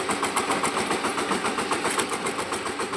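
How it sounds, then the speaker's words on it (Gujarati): A farm tractor engine running steadily on a village field trip, a close, even rhythmic chug with rattly mechanical texture throughout and no talk. "હા હવે ટ્રેક્ટર લઈને જઈએ."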